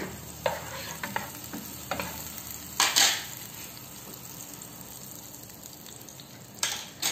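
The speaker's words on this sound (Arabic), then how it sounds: "في مقلة ندير شوية زبدة نخليها حتى تذوب" Butter melting in a frying pan, a soft steady sizzle with occasional scraping stirs and light clinks of a utensil against the pan.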